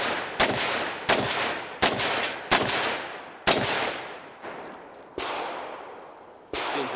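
A revolver handgun fires seven sharp, loud shots spaced irregularly about a second apart, each crack ringing out with a decaying echo tail, and no one talks.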